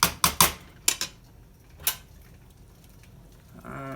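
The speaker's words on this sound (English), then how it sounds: "And just give it a stir" A spoon knocks and clinks against a pot while potato soup is stirred, with several sharp taps clustered at the start and a few more spaced out afterward, all close and moderately loud.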